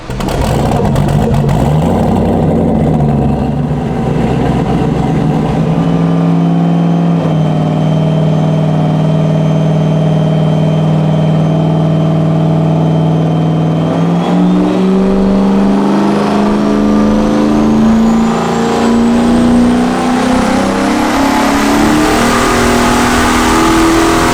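A turbocharged LS-swapped Foxbody car runs on a dyno in third gear, its engine droning loud and close, holding steady then climbing in a long rising rev with whining turbo tone, no voices heard.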